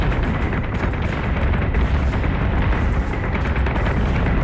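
Warship guns fire in a Battlestar Galactica Deadlock space battle, giving a dense, loud, sustained barrage of booming shots with no pause.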